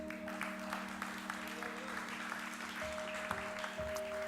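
Steady applause from a church congregation at an evening service, continuous and even across the whole stretch, with a low sustained musical tone underneath and occasional louder claps.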